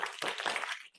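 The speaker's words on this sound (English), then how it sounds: "Please say it with a round of applause." An audience at an International Women's Day celebration evening gives a brief burst of applause: dense, steady clapping that fills a moment, then cuts off.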